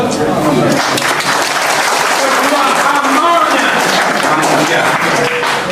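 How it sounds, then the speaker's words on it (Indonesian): Audience applause rolls through a hall during a public talk, a sustained clapping wash heard beneath a speaker's voice. "Itulah aplaus."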